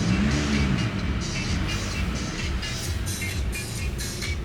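A 2.0 TDI diesel in an Audi A6 C7 Avant idling at about 900 RPM, heard as a steady low rumble with broadband hiss and slight fluctuations, with no talk over it.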